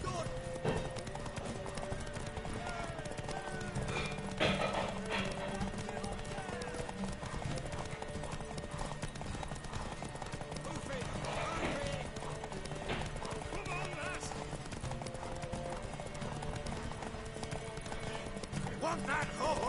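Horse hooves clip-clop steadily in The Witcher 3: Wild Hunt, with an occasional whinny, running continuously under game music and ambience while voices talk.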